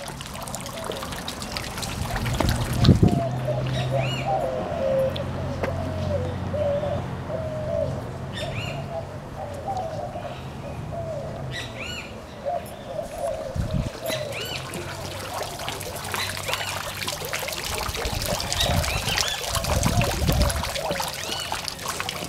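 Water trickles and flows steadily in the background while birds call and doves coo intermittently, with a few soft knocks and bumps nearby.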